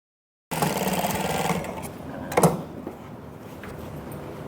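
A sewing machine runs steadily while stitching the waistband belt of a fish-cut skirt, a close, continuous whirring burst that stops partway and gives way to quieter handling noises.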